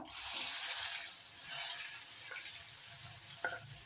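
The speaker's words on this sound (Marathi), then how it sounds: "1 छोटा चमचा मोहरी, जिरं, अर्धा चमचा हिंग, लगेच घालते मी कांदा।" Chopped onion goes into hot oil already crackling with mustard seeds, cumin and asafoetida for a besan zunka, giving a steady, close sizzle and frying hiss with a faint stir near the end, no talk.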